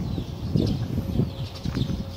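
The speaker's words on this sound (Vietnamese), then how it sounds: "Bồ câu," Pigeons cooing and flapping their wings outdoors near water, a low, soft, continuous burbling with faint flutters, moderately quiet and without voices.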